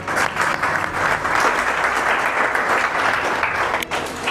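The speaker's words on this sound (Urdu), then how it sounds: "آپ کی بھرپور تالیوں میں سجاد کو یہاں بلا رہا ہوں." A college ceremony audience at Govt. Graduate College Bahawalpur gives loud, continuous applause as a student is welcomed onto the stage, a dense wash of clapping from many hands throughout.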